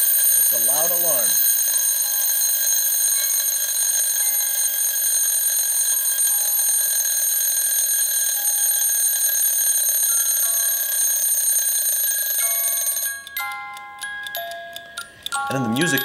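A vintage Reuge musical alarm clock rings a loud, continuous bell that holds steady for about thirteen seconds. It then stops and gives way to a delicate music-box melody, with a brief voice heard near the start.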